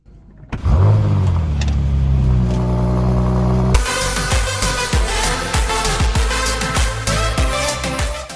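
A Bentley Continental GT engine starts up and runs steadily as the car reverses, loud and close, before rhythmic music takes over and covers it.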